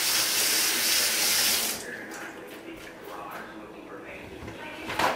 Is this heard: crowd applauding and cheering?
no